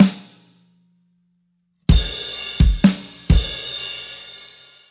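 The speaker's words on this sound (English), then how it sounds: "when he goes to the snare drum on the second count, he plays it together with a hi-hat." A drum kit plays part of a beat, loud snare hits struck together with a loose, sizzling hi-hat, four sharp accents that ring on between strokes, after a brief quiet tail at the start.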